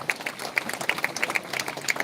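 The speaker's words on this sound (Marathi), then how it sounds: "विद्यार्थ्यांनो टाळ्या वाजून ठराव मंजूर" Students at a live Marathi youth talk clap in applause to approve a resolution, a steady patter of many hands close by with no voices over it.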